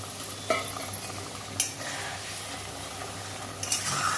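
Green chillies sizzle in a pan of mustard-posto fish curry as a small splash of water goes in, a steady close hiss broken by a few sharp clinks and scrapes of a spoon against the pan.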